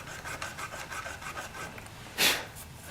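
A fine 220 grit eraser rubbed along the frets of a Stratocaster-style guitar makes quiet, rhythmic scratchy strokes, close and soft, ending with one louder swipe near the end.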